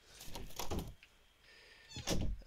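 A door opens in the survival game 7 Days to Die, a couple of muffled thuds followed by a short mechanical slide and another thump, close and moderately loud.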